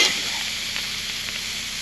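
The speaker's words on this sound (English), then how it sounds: "Listen to the goodness" Food sizzles steadily on a camp grill outdoors at night, a close, continuous crackling hiss that fills the short moment with no talking.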